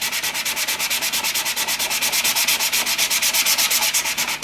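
A super-glued wood joint is sanded in rapid, even back-and-forth strokes, about eight per second. The steady rasping is close and loud and carries on with no talk.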